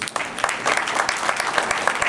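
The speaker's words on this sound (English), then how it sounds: "Give him another round of applause." Audience applause for a guest at a speaking event in Mt. Vernon, Illinois, many hands clapping in an uneven, lively patter that builds after a short start and stays full and close.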